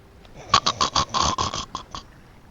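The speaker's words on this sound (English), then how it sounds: "take care of that snoring?" Short rhythmic snoring-like snorts, a quick run of nasal rasps bunched together, fairly close and moderately loud with no talk over them.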